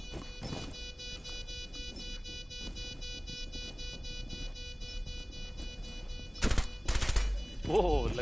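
Rapid gunfire from a competitive team shooter match, a steady stream of shots running under quiet background noise, with a couple of louder bursts near the end and a voice briefly speaking.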